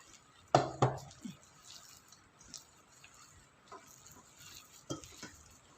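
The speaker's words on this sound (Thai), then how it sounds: "เสร็จแล้วเราก็ใส่ เห็ดเข็มทอง" Enoki mushrooms tipped into a frying pan and stirred for mushroom fritters, with a sharp clatter of utensil on pan near the start, then soft scraping, light sizzle and occasional knocks of cookware.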